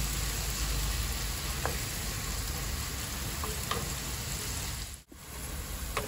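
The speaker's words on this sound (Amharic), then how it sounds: "ሽንኩርቴን አቅማ ነው ዘይቱን አግየዋለሁ። እንደዚህ ሽንኩርቴን ያበስልና" Onions frying in hot oil in a pan, a steady loud sizzle that crackles continuously throughout, with a brief dip near the end, and no voices.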